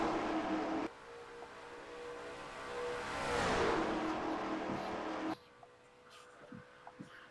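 Stock cars at a speedway during the Coke Zero 300, Race 12 of the NRSL Mello Yello Series, lapping at nearly 180 mph. One car roars past with a rising then falling sweep, and the scene then drops to quieter ambience with scattered clicks.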